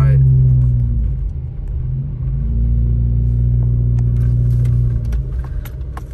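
A Hyundai car drives up a snowy mountain road near Big Bear Lake, its engine a loud, close, steady rumble that swells slightly as it climbs, with a few faint clicks and knocks.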